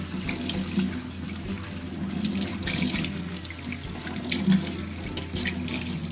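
Mud crab being washed under a running kitchen tap, a steady close gush of water splashing into the sink, continuous and unbroken.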